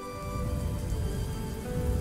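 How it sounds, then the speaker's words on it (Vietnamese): Steady rain falls and patters on surfaces, a dense even hiss with a faint constant hum beneath, heard alone without voices as a sound effect in an audiobook. "Cơn mưa rơi xuống táp vào mặt cô như những cây kim xuyên vào da thịt rát buốt"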